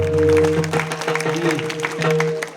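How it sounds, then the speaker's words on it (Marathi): Audience at a Marathi kirtan in Prem Nagar, Nagpur clapping in a steady burst that fills the clip, with a sustained harmonium-like drone and voices mixed in beneath the applause. "त्यांच्या नावाने टाळी."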